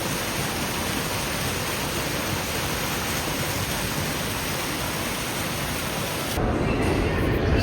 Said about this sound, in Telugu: అండ్ వాటర్ ఫాల్స్, చిన్న వాటర్ ఫౌంటైన్స్.